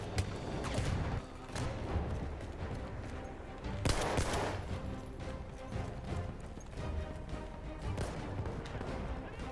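Rapid gunfire rattles through a Battlefield 1 match, with dense bursts of automatic shots and heavier blasts piling over one another. It is loud and continuous, with some game chatter mixed in.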